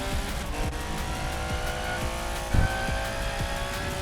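An Aston Martin Valhalla engine in a racing game drones steadily with harmonic whine, a brief louder burst midway, no voices.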